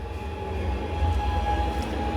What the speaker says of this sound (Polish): Przed chwilą mijał nas pociąg towarowy